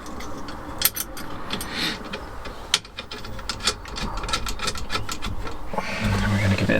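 Steering wheel bolt on a classic Fiat 500 being tightened with a ratchet, giving close metallic clicks and rattles over a steady background hum that grows louder toward the end.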